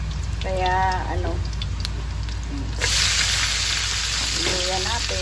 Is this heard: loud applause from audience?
no